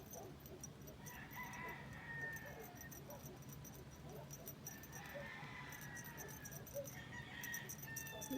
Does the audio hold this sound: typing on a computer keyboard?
no